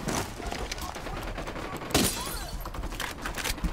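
A gunshot fired in the tactical shooter Ghost Recon Wildlands, a single sharp crack near the middle standing out briefly over a steady bed of game ambience and music.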